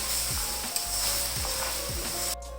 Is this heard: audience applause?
no